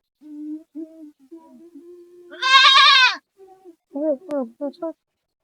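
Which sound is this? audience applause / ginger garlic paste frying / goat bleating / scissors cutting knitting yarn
goat bleating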